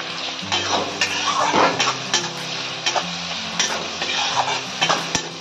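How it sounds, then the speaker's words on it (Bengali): Onions sizzle steadily in a hot pan as a spatula stirs them with salt and slit green chillies for a rohu kalia, with repeated scraping clinks of metal over the continuous frying hiss. "এইগুলো ফ্রাই করতে হবে, অল্প নুন দিয়ে কষাতে হবে।"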